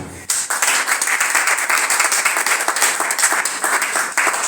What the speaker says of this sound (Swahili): Tupige mgeni makofi